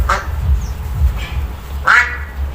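A duck quacks a few times, close by, over a low rumbling background of wind or handling noise.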